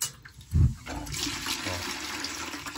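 Water drains and splashes out of a McDonnell 67 low water cut-off on a steam boiler, with a brief close gush early on and then a steady trickle and gurgle running underneath.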